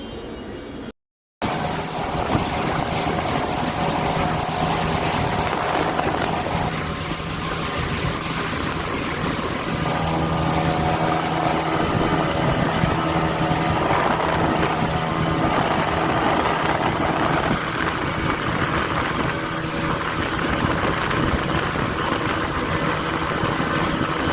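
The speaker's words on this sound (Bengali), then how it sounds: "এখন আমরা স্পিড বোর্ডে যাচ্ছি" A speedboat engine droning loud and steady on the lake at Rangamati, a continuous close roar with water rush that runs throughout after a brief drop at the start.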